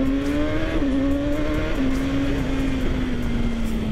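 BMW naked sport motorcycle, R nineT or S 1000 R, accelerating hard, its engine note holding a steady loud drone that climbs gradually across the pull, with wind rush underneath.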